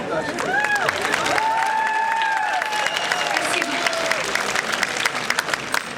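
Concert audience applauding and cheering for a Belarusian singer, sustained loud clapping throughout, with a voice briefly speaking over it.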